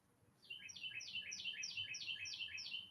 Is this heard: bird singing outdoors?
yes